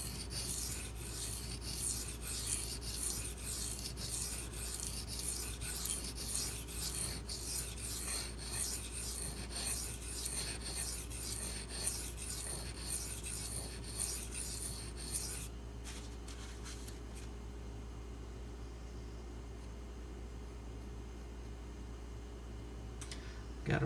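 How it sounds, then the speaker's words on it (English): A Benchmade Mini Crooked River knife blade is ground against a sharpening surface to raise a burr, giving steady close rasping strokes for about fifteen seconds before quieting to faint scrapes. "now I'm going to sharpen this side and grind until I get a burr on the other"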